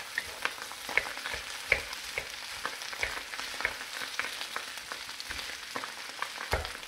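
Veggie fried rice sizzles steadily in an electric wok while a wooden spoon stirs and scrapes it, giving frequent short knocks and scuffs over a soft, even frying hiss.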